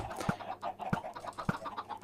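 Chickens cluck in a Minecraft chicken farm, with three sharp, evenly spaced clucks set among softer chatter from the flock, fairly close and without speech.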